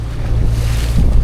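Boats moving on open water while out fishing, a steady low rumble of motors and wind buffeting the microphone, with water wash underneath, continuous and fairly loud with no voices.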